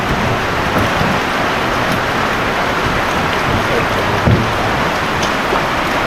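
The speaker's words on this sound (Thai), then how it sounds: "โอ้ฝนตกเลยพี่น้องเอ้ย" Heavy rain falls steadily in a rural setting, giving a loud, dense, unbroken hiss and patter that fills the whole scene with no gaps.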